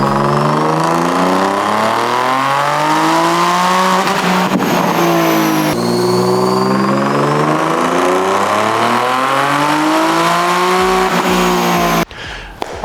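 A Nissan 370Z with a twin turbo kit drives past loud and close, its engine rising and falling through several hard revs and gear changes, before cutting off abruptly near the end.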